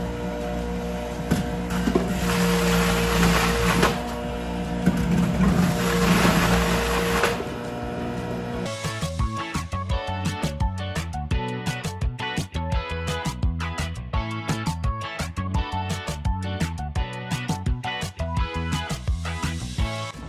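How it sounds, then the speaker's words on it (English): A Waring WJX80 commercial juicer runs loud and close, a dense motor roar that shifts partway into a busier grinding, rattling texture that continues to the end, with no voices. "we're going to simply turn it on and get juicing."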